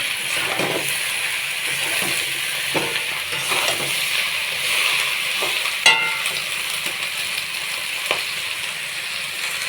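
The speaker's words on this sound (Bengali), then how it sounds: "এখন পুঁই শাক, কুমড়ো আর আলু দিয়ে দেবো। একটু নেড়ে নেব।" Malabar spinach, pumpkin and potato stirred in a hot pan, with a steady oil sizzle under repeated scraping strokes and occasional sharper utensil clinks, close and moderately loud, no talking.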